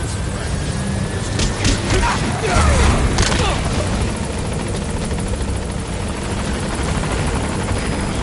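A helicopter arrives at a landing zone in Metal Gear Solid V, its rotor chopping loud and steady throughout, swelling briefly with a heavy whoosh as it closes in, with radio voices heard alongside.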